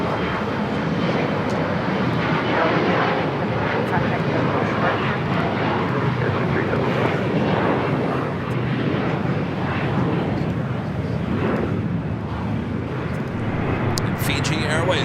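A jet airliner taking off from runway 25 right at LAX, giving a dense, loud, continuous engine roar that holds steady throughout, with a person talking over it.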